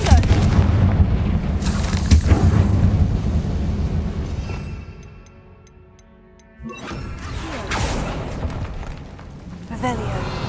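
Confringo fire curse in Hogwarts Legacy, loud booming blasts and crashing debris in busy game combat, a quieter stretch in the middle, then renewed rumbling impacts, with voices speaking over parts.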